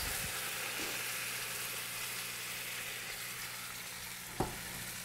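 Egg mixture frying in a pan for a red squash onion frittata, a steady soft sizzle held throughout with one brief utensil scrape near the end and no talking.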